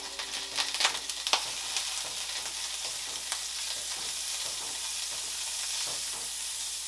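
Wagyu beef fat and butter sizzle in a hot pan with a steady, close frying hiss, with a few scraping stirs near the start.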